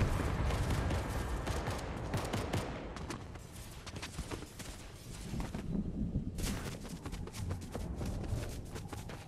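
Fortnite gunfire, steady rapid shots and fusillade bursts filling the clip, loud and close with no talk.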